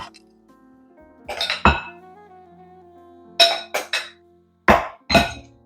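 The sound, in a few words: coconut lemon mix put into food container or mason jar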